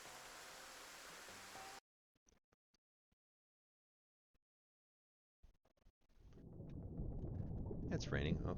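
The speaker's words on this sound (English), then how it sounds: "It's raining." Rain and rolling thunder from the underwater-diving video game Dave the Diver: a steady broadband downpour cuts out abruptly, a few faint clicks follow in near silence, then a loud rain wash swells back in with whistling tones.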